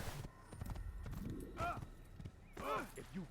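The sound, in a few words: horse hooves in the video game Assassin's Creed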